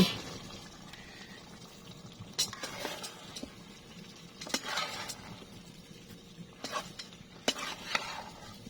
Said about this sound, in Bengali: এখন ভালো করে নাড়িয়ে নেব